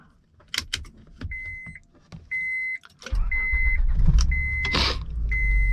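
A 2005 Honda Pilot's engine cranks and catches after the key is turned with a screwdriver in a replaced lock cylinder. Door chimes and clicks come first, then the engine settles into a steady, close idle with the chime continuing over it.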